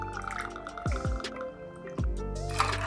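Pineapple juice is poured into a cocktail glass with a few gurgling splashes and drips against a faint clink of glassware, close and clear, with no talking.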